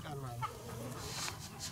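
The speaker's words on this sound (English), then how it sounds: "poultry such as chicken and duck are raised at the outpost to provide egg" Chickens and ducks raised at a riverside outpost cluck softly under a steady low hum of background noise, with a few faint higher calls scattered across the short stretch.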